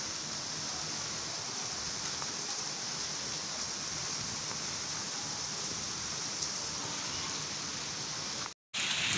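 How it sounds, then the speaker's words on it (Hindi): Steady rain falls outdoors beside a bird enclosure under construction, a continuous even hiss of drops on surfaces that holds without pause and cuts off abruptly near the end. "अभी फ़िलहाल जो है ना बारिश हो रही है, देख रहे हैं आप।"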